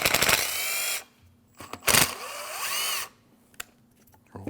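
A power drill whirs in two loud bursts, each about a second long, spinning out a pair of 8 millimeter bolts holding a purge sensor bracket on a 2012-2016 Honda CR-V 2.4L, with brief clicks and handling noises between them.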